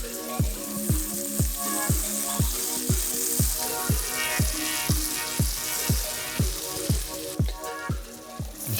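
A pat of Kerrygold butter sizzles in a frying pan with a continuous crackle, overlaid by a steady, evenly spaced ticking pulse about twice a second.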